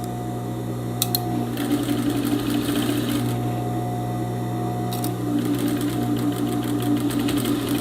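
A sewing machine stitches a dart in fabric for a straight skirt with a ruffle, a steady close mechanical whir with a few sharp clicks at about one and five seconds.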